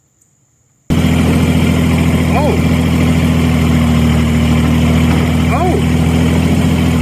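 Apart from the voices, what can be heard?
tractor turning over a flooded Ford 302 engine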